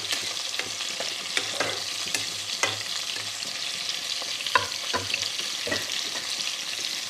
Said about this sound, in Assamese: ইফালে মই মাছখিনি ফ্ৰাই কৰিয়ে আছো